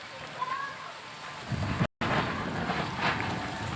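Strong gusty wind under dark clouds rushes and buffets the microphone in a continuous roar, broken by a brief cut; a voice speaks over it.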